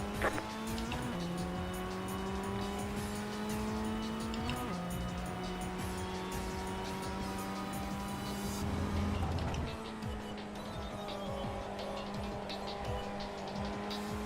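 A race car spinning out in an iRacing league race, the engine note holding steady then dropping and wavering as tires scrub and squeal, the whole run close and continuous.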